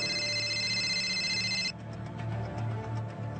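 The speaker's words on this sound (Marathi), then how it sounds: "ठाण्यातल्या ज्युपिटर हॉस्पिटलचा फोन खणाणला।" A telephone at Jupiter Hospital in Thane rings with a steady electronic tone for under two seconds, then cuts off, leaving a low background hum.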